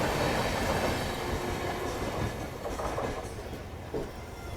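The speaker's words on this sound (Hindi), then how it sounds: "अपनी ट्रेन भी निकल चुकी है गोविंदपुरी रेलवे स्टेशन से" An Amrit Bharat Express train running on rails after leaving Govindpuri station, a steady broadband rumble and rattle of wheels and carriages that fades slightly toward the end, with no voices.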